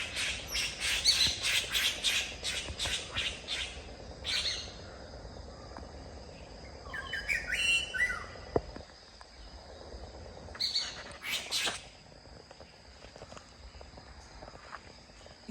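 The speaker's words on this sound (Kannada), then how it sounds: "ನೋಡಿ ಗಿಳಿಗಳೆಲ್ಲ ಇದೆ ಇಲ್ಲಿ." Parrots in trees give repeated harsh squawking calls, loud bursts at the start and again later, with quieter distant calls, insect buzz and a few rustling footstep sounds between; no talking.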